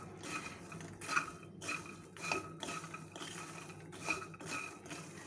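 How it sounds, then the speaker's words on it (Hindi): Chaat masala spices get mixed into makhana in a bowl, a rhythmic series of dry clattering scrapes and light rattles repeating about every second, close and fairly quiet, with no talking. "और इस तरह से हमें अच्छे से सारे मसाले फिर से हमारे मखाने में मिक्स कर लेने हैं।"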